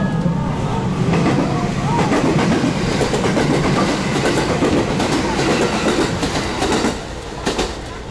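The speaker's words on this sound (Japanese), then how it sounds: "少し上になりますが電車が来ております。" A train rumbles past near the Kyoto Railway Museum, close and loud, with steady rolling wheel noise, clicks and scattered rattles through most of the stretch that ease off slightly toward the end. A voice is faintly present beneath it.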